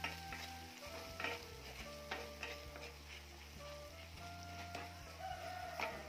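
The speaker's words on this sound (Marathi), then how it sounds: "कोल्हापुरी चटणी म्हणजेच मसाला तेलावर चांगला परतून घ्यायचा" Kolhapuri onion-garlic masala sautés in hot oil with a steady, close sizzle and crackle, broken by repeated scrapes and stirring knocks of a spoon against the pan.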